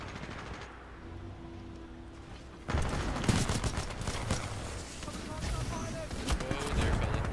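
Pistol and other gunfire in Titanfall 2 multiplayer: a quiet stretch, then a sudden loud burst of rapid shots and impacts continuing to the end, with someone talking over the gameplay.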